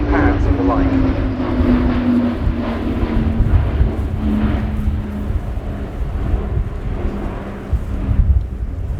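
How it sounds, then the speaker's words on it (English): Airbus A400M military transport aircraft in a flying display at an air show, its propeller engines droning loudly and steadily throughout with wind buffeting and a shifting pitch as it passes at low level. "And then just as rapidly the aircraft returning to low level."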